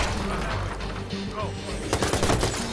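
Rapid bursts of gunfire from the Watch Dogs video game played on PS4, loud and close, with someone talking over the shots.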